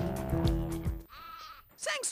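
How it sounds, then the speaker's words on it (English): Goat bleating from the video game Spyro: Year of the Dragon, a short wavering cry heard twice in a row near the end, following game music and talk. "Well, there goes the goat"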